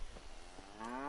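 Cow in the video game Kingdom Come: Deliverance lets out a single low moo that rises and swells toward the end, brief and fairly close, with no talk over it.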